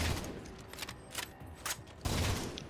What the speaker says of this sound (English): Oh, it feels good to use a new weapon, doesn't it? Triple round burst.